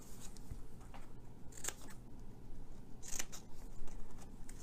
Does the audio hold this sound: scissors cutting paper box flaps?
yes